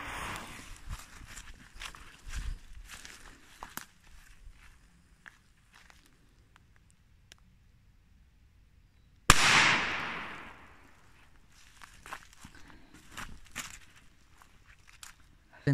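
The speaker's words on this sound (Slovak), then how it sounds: "Tento Pirate Bomb bol najsilnejší z týchto všetkých troch petard" A ten-year-old Pirate Bomb firecracker explodes outdoors: after quiet shuffling footsteps, a single sharp, loud bang cracks out and fades in a short ringing decay, followed by faint rustling.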